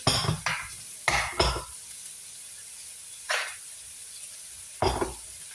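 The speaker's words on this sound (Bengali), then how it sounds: "ভালো করে নাড়াচাড়া করবো। এবার আমি রান্না করবো ফুল।" Bean seeds frying in a pan get stirred, with a few loud scraping, sizzling sweeps of the spatula, two close together, then one, then one more, over a faint steady hiss.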